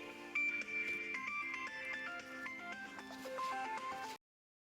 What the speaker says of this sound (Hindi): पता नहीं किसका फ़ोन आ रहा है।